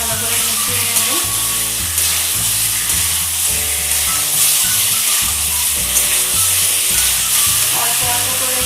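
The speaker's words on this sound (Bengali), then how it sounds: "দিয়ে আমি সব আলুগুলোর সঙ্গে মশলাটা ভালো করে মিশিয়ে নেব।" Fried potatoes being stirred with spice masala in a pan, a continuous sizzle with scraping stir strokes, loud and close over steady background music.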